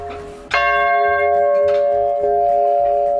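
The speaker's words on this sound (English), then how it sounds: "So let's just turn this wheel to give it a little tinkle." A large church bell in a church being renovated in Nova Scotia, rung by turning its wheel, strikes once very close and loud, then its rich ringing tone hangs and sustains, with a fainter second strike near the end.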